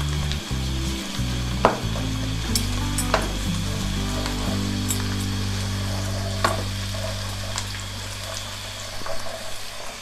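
Sliced onions, already lightly browned, frying with ginger-garlic paste in a pan for aloo mungray, giving a steady close sizzle with a few sharp pops and stirring clinks throughout, no talk.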